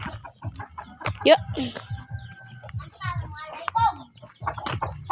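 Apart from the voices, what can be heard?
chicken clucking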